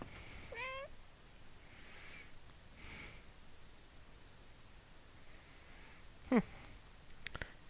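Cats in the Songs of Glimmerwick video game give a short, rising meow against soft steady background hiss, followed by a few faint scattered noises and a brief louder chirp near the end.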